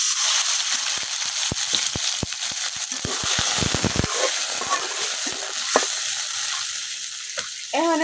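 Onion, ginger and garlic paste fries in a pan for a Bengali fish and cabbage dish, with a loud continuous sizzle. A run of sharp taps and scrapes from stirring sits in the middle, and no one speaks.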